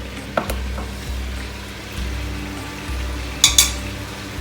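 Paprika and spices sizzle softly in a pan for a tajine while a spoon stirs them, with a low steady fry, rhythmic scraping strokes and a few sharp metallic clinks against the pan.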